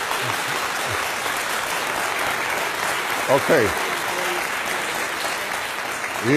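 A debate audience breaks into sustained applause after a question on the Israeli–Arab conflict, broad clapping filling the whole stretch while a voice speaks briefly over it near the end.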